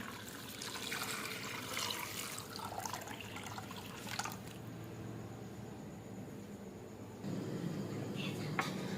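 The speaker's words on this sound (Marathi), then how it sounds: "आणि आता ह्याच्यामध्ये आपल्याला ॲड करायचे पाणी." Water pours and splashes into a pan of Veg Manchurian gravy, a close, moderate liquid trickle that shifts in tone partway through, with faint background noise.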